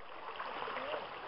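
Templeton Creek water flows steadily along a hiking trail, a continuous close gurgling rush with no pauses.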